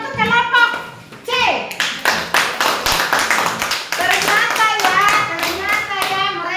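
A classroom of children claps for a student group after its presentation, a steady round of close, bright handclaps that builds and continues for several seconds, mixed with kids' chatter and a teacher's voice.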